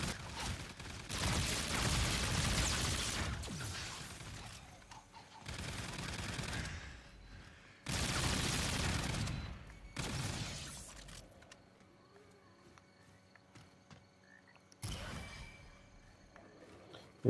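A placed machine gun in a zombie shooter game fires in several long, loud bursts of rapid gunfire separated by short pauses, with quieter game sounds in the gaps and a final brief burst.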